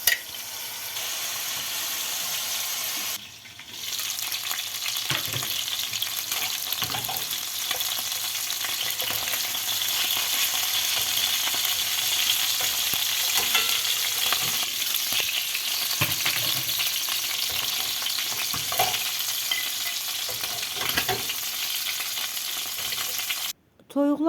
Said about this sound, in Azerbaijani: Əvvəlcədən pörtülmüş toyuq hissələrini yağa atıb yaxşıca qızardırıq